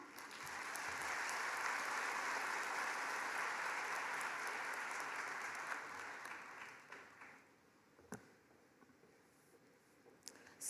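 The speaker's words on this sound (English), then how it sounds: "Can we give them a round of applause as they come up?" An audience at a graduation ceremony breaks into loud, sustained applause as the graduates come up, holding steady for several seconds before tapering off into a few scattered claps.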